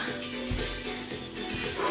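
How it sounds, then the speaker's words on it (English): A dog indoors barking at someone arriving at the front door gives a few short, muffled barks in the background during a live fitness class, with a voice talking over them. "Apologies if you can hear the dog barking."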